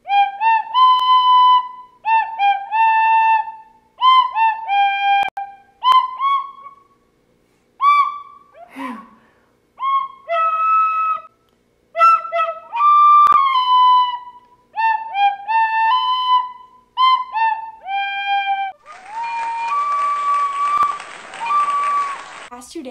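A tin whistle plays a performance of short, bright melodic phrases with brief pauses between them, heard close and clear. It ends in a burst of noisy applause.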